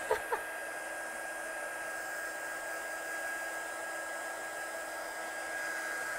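A hair dryer runs steadily and fairly loud at close range, blowing to dry ink on a handmade ombre card, with a couple of small knocks at the start and no talking.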